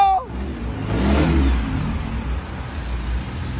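A 1.9 Z top-trim pickup with a stock engine, tuned with a double-rev cut, revs once hard and then holds a steady, loud mid-pitched engine note close by. No one speaks.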